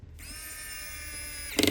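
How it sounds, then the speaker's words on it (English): A large electric screwdriver drives a screw during a Samsung Galaxy S25 Ultra charge-port repair: a steady high motor whine for over a second, then a brief rapid ratcheting clatter as the screw seats, close up with no talking. "If you like the look of this little electronic screwdriver, or big electronic screwdriver that we've got"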